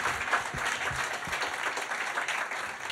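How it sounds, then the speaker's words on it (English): An audience at Hugh's Room in Toronto applauds in a continuous, moderately loud patter of many clapping hands, with a few louder individual claps standing out near the start. "You can clap. Go ahead, clap."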